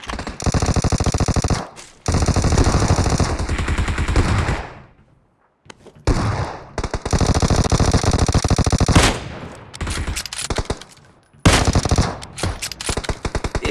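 Rapid, loud bursts of automatic gunfire from a battle royale video game match with a Kar98 rifle in play, several sustained volleys broken by brief pauses, with no talk.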